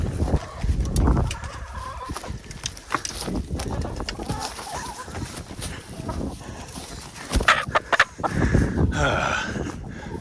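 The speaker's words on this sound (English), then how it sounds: "Chasing chickens." Chickens cluck and squawk while being chased outdoors, mixed with rustling, footsteps and heavy movement up close, with agitated bursts near the end.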